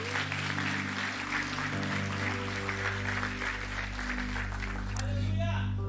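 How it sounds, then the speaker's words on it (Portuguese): A church congregation applauding during a Sunday morning service, broad clapping over sustained organ or keyboard chords, with voices calling out near the end. "Aplauda o nome do Senhor."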